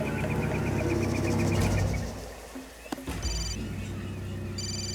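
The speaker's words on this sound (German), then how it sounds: "Also, Telefon." An in-game telephone ringing in Far Cry 2, a repeated electronic ring pattern over steady game ambience, with a short break and a sharp click before the ringing resumes.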